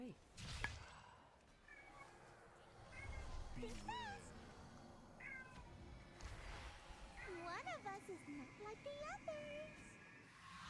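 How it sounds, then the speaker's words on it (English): Several drawn-out, rising-and-falling cat meows from a little distance, spaced across the stretch, with soft background noise and occasional faint voices. "You might hear a cat in the background, I don't know."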